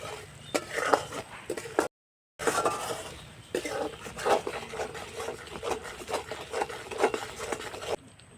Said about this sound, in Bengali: তো দেখুন চিনিটা একটু হালকা কালার আসছে, আর একটু আমি নাড়িয়ে নেব এভাবে